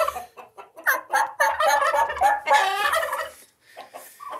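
A Narragansett heritage-breed domestic turkey gobbles loudly and close by in a rapid, warbling burst, with clucking and other fowl calls around it.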